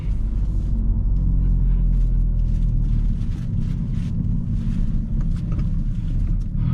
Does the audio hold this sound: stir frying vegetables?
no